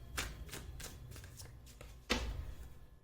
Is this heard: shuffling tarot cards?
yes